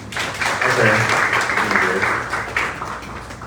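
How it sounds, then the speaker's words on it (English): A brief round of steady clapping from an audience at a memorandum of agreement signing ceremony, moderately loud and fading after a few seconds, with a voice speaking over it. "Round of applause,"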